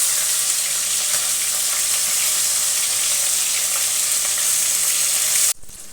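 Fish frying in mustard oil after being turned over in a kadai, a dense continuous sizzle close and loud, stopping suddenly just before the end.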